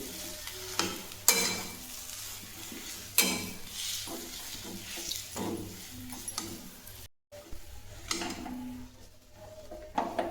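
Potato filling with finely chopped coriander being stirred in a hot pan at home, a spoon scraping in several distinct strokes over a soft, steady sizzle, close and moderately loud, with no talking.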